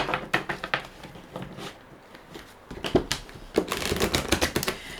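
Rapid riffling and soft slaps of tarot cards being shuffled, in quick bursts with a short pause in the middle, close and fairly loud.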